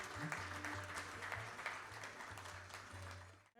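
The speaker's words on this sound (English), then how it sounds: "ladies and gentlemen, don't stop yourselves from clapping your hands." Audience clapping at a business summit's inaugural session after a ceremonial lamp lighting, a steady broadband wash of many hands in a hall with a low steady hum beneath, cutting off abruptly near the end.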